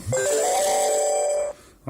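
A bright electronic tone sounds from a phone running the Google Home app, held steady for about a second and a half, then cut off abruptly, with a short burst of sound following after a brief pause.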